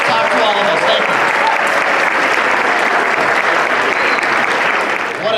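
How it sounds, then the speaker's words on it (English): An audience applauds a speaker after an inspiring talk, a dense, steady wash of clapping from many hands that stays loud and even throughout before easing slightly at the very end. "Let's give Mr. McGilvery a wonderful round of applause"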